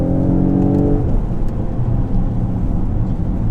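A 2020 Mercedes GLE53 AMG engine pulls hard on a wet road, a steady loud rumble with a rising harmonic drone at the start that settles into a broad, continuous roar; no talking.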